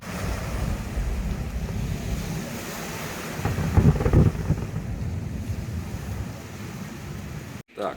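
Sea waves wash and roar near a seaside swimming pool, a broad steady surf rush mixed with wind buffeting the microphone, swelling briefly in the middle before easing.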